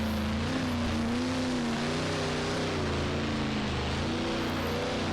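Race car engines wind up and rev during practice night at Iceville Raceway, a steady loud drone with rising and falling pitch that holds throughout, with no talk over it.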